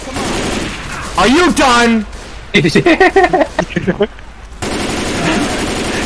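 Automatic weapon fire in Left 4 Dead 2, with loud sustained bursts and a rapid string of shots between excited voices talking over the action.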